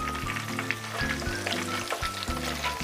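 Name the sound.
marinated catfish frying in oil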